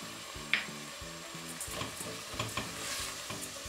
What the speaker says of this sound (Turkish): Güzelce iç harcımı kavuruyorum